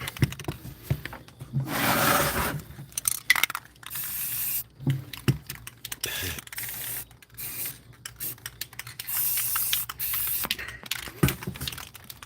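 Aerosol spray paint hissing onto furniture being upcycled for a new apartment, in several long bursts and shorter puffs separated by pauses, close and fairly loud with small clicks and knocks between sprays.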